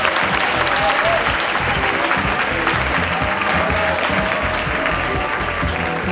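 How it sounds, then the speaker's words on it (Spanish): Loud, sustained applause from a large audience at the Premios Latino 2017 awards ceremony, a continuous wash of clapping with some crowd noise underneath. "Un fuerte aplauso para ella."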